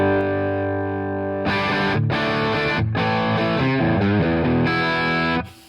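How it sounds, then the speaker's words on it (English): A single held note rings out, then distorted riffing follows on electric guitar through an AmpliTube Mesa Mark II Crunch amp preset: chugging crunchy chords and short runs, loud and close, ending abruptly. "This is a Mark II Crunch preset, which I quite like in AmpliTube"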